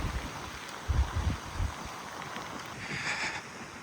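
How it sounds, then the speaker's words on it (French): Icy wind buffets a microphone outdoors during an Italian storm-chasing road trip, low rumbling gusts, steady gusty noise throughout and no talking. "Ah, ce vent est glacial."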